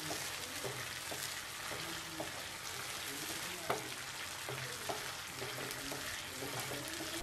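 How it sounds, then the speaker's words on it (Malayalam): Ashokam mixture with palm jaggery syrup is stirred in a pan, making a dense, soft bubbling crackle with light scraping taps spread throughout, fairly quiet and steady. "ഇത് അടിക്ക് പിടിക്കാതെ നന്നായി ഇളക്കണം."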